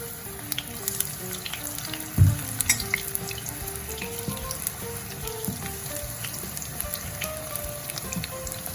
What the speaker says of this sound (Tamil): இப்போ இந்த கத்திரிக்காயை இந்த மாதிரி ஒரு முக்கால் பதத்துக்கு பொறிச்செடுப்போம்